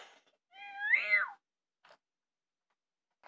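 A voice imitates a cat's meow, one drawn-out wavering mew rising then falling, alone and fairly close, with short faint noises after.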